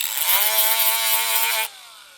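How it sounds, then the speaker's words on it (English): A short, harsh abrasive scuffing burst, close and loud, as the surface of a battery strip is roughed up before soldering during a cordless ratchet battery rebuild, stopping abruptly after about a second and a half. "You have to scuff the top to be able to get solder to stick."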